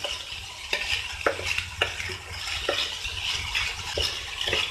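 Vegetable fried rice being stir-fried over a high flame, with repeated sharp scrapes and tosses of a spatula against the pan about every half second over a constant sizzle.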